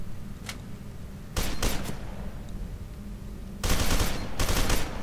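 Gunfire in the first-person shooter F.E.A.R. 2: Project Origin, two loud bursts of rapid automatic fire separated by a quieter stretch with a rumbling low background.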